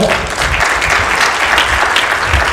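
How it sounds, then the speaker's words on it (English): Audience applause at the final of the 2010 Malaysia Best Sommelier Championship, a steady, dense round of clapping that holds at full strength from start to finish with no voices over it. "a round of applause for Peter."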